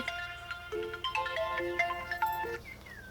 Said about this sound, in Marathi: साहेबांचा फोन आला काय सांगू आता यांना